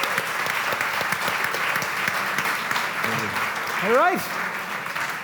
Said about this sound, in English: So massive round of applause for Greg O'Shea.